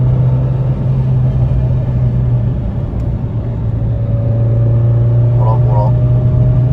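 A Renault Clio 2 RS on the road during a brake bedding run gives a steady low engine drone and road rumble from inside the car, with someone talking over it.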